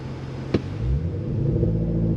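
A 2023 Cadillac Escalade-V engine building revs under throttle, a deep rising rumble that swells after a sharp click and holds steady to the end.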